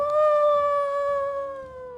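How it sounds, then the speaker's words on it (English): A single long wolf howl, a clear sustained tone that slowly falls in pitch, loud and close with faint background noise beneath. "a wolf, and you hear a howl"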